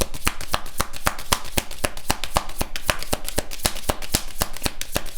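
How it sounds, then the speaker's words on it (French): Tarot cards being gathered and shuffled, a fast steady train of crisp card slaps and riffles, close and even in loudness, with no voices. "je ramasse en même temps la carte"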